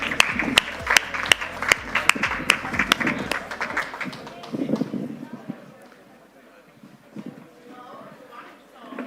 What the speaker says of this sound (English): can I have the last welcome applause of the day and make it a very big one?